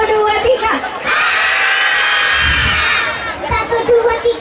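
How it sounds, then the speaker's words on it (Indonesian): A large crowd of children at a 2019 record-breaking event in Dharmasraya, Sumatra, shouts together on cue in one loud, sustained roar lasting about two seconds, with an adult voice talking before and after. "sekarang coba teriak"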